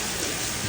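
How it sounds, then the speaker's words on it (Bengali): Torrential rain pours down outside, a dense, unbroken wash of drumming drops, loud and steady across the short stretch. "বৃষ্টিটা দেখো খালি মুসুলধারায় বৃষ্টি নেমেছে।"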